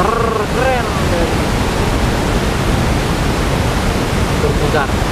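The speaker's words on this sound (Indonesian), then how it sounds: "silakan dinikmati air terjun kita yang merupakan air terjun terkeren dari" Curug Muncar waterfall in Purworejo, Indonesia, roars as a loud, constant wash of rushing water, with brief voices talking at the start and near the end.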